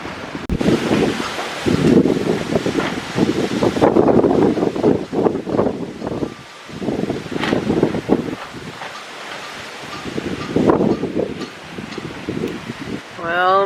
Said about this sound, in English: We've never had this much wind in a winter, guys.